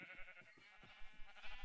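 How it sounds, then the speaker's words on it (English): Pink sheep in a Minecraft-style video game bleat in a few short, wavering calls over a steady hum of game background noise. "I don't know why there's all these pink sheep in here."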